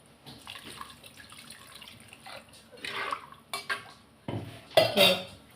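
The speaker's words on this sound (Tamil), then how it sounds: "கொஞ்சம் தண்ணி ஊற்றிக்கிடலாம்." Quiet kitchen clatter of utensils and a cooking pot, then bursts of water splashing and pouring into the pot near the end, close by.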